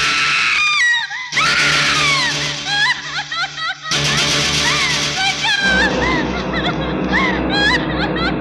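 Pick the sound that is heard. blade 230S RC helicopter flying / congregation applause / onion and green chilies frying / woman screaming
woman screaming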